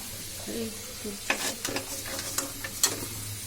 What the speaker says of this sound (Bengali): ভাজি লাইছি আলুটা একটু ভাজি করে দিলে খাইতে ভালো লাগে